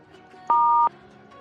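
Single steady electronic phone beep during a prank call, a clean pure tone lasting under half a second, loud and clear against a quiet line hiss.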